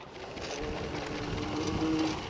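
A RollNRack power roller drains and rolls a fire hose, giving a continuous mechanical whirring hum with a faint rising whine and no talk.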